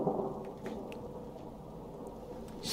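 Rain and distant rumbling thunder in the video game Rain World, a continuous low wash of rain with faint scattered ticks, no voices.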